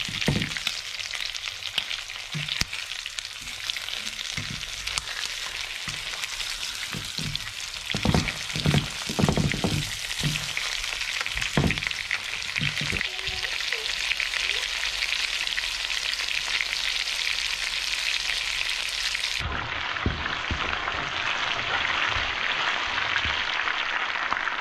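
Foraged almonds frying in a pan outdoors, a steady loud sizzle with occasional stirring clicks running throughout, the crackle continuing unbroken to the end.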